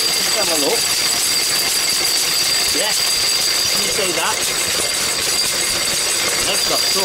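Lister D stationary engine driving a paint mill grinding chalk, a steady loud mechanical chugging with a constant high whine, while someone talks intermittently over it.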